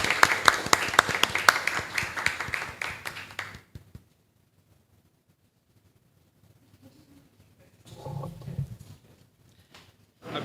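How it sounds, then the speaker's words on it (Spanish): Applause from an audience at a national essay competition on arbitration in public procurement, greeting the third-place winner; a burst of clapping for about four seconds, then near silence and a short murmur of voices. "Un aplauso, por favor, para el tercer puesto de este quinto concurso nacional."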